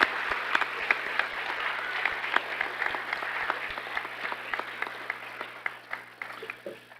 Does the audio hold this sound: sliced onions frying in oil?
no